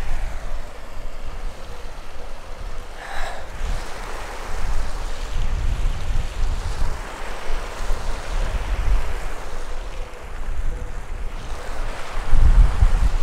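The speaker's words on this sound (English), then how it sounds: "It's also windy as shit." Steady, loud wind roars across the whole stretch at about 14,000 feet in Nepal, with a low rumbling buffet like gusts striking a microphone, and a hiss resembling distant surf.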